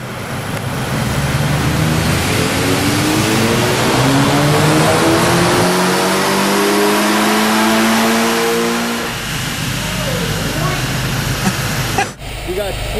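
VW Mk6 TSI engine fitted with a FrankenTurbo F23T turbo, revving hard on a dyno with a long rising pitch sweep that peaks and drops off, loud and close, with brief speech near the end.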